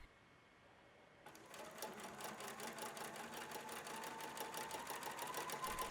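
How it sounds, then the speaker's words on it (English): A sewing machine stitches elastic onto swimwear from the crotch seam, starting after a quiet moment and then running in a fast, continuous rhythmic whirr that stays close and steady. "Start your stitching at the crotch seam."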